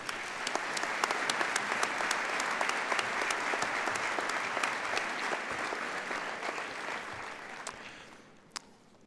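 An audience at a college commencement ceremony applauds steadily to welcome a speaker to the podium, a dense, sustained wash of clapping that fades out near the end with a few last claps.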